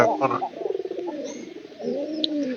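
Two pigeons coo close by in a rolling, repeated call, heard clearly and loud, with someone speaking briefly at the start.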